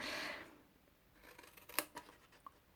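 Scissors cutting paper to make a rectangular soap box: a brief rustle of paper, then a few faint, sharp snips spaced irregularly, close and quiet.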